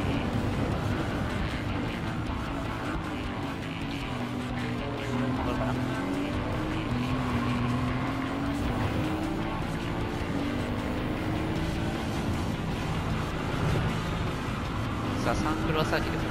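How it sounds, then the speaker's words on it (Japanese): A Mercedes-AMG front-engine, rear-drive car in Gran Turismo 7 laps the Sainte-Croix circuit, its engine droning steadily and rising and falling in pitch through upshifts, loud and continuous, with someone talking over it. "これ、ね、シフトアップの時の音がねすごくいいですね。"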